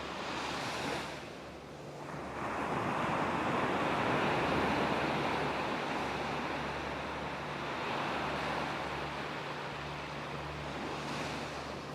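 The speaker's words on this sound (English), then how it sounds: "as you listen to the sound of the waves," Ocean waves wash in a continuous broad roar, swelling and easing slowly, with some wind rumble and no voices.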